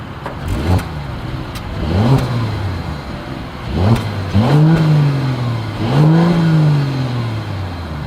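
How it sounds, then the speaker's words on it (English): A Mercedes-Benz S500 exhaust revs repeatedly, several sharp throttle blips rising and falling between a low idle, loud and close. "As always, here is that exhaust clip."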